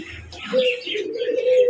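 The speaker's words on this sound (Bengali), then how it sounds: "দেখতে পাচ্ছেন আরো একজন কবুতর আছে, মুখী কবুতর" A large Belgian mukhi pigeon coos close by, a short low sustained call with breathy trills, heard alone at moderate loudness.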